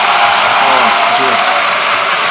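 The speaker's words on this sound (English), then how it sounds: "let's give a huge round of applause for our speakers tonight" An audience at an evening discussion event on God and religion gives a sustained round of applause for the speakers, a loud, even wash of clapping with voices faintly audible underneath.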